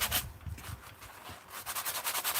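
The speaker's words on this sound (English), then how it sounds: "I want to sandpaper the edges here a little" Sandpaper rubs back and forth along paper edges in an art journal, a close, scratchy rasping in quick repeated strokes with a short pause midway.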